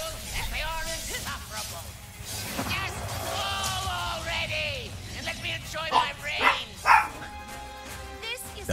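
A dog barks several times in Ratchet & Clank: Rift Apart, with short yips rising over busy game music and effects, loudest near the end.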